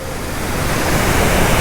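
Water rushes from the opened Kallanai dam on the Kaveri river, a loud, steady roar of broadband noise that swells slightly as it goes on.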